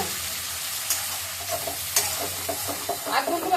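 Cashews, cloves and cumin fry in a pan with a continuous close sizzle, punctuated by repeated scraping and tapping as a spoon stirs them; no talking.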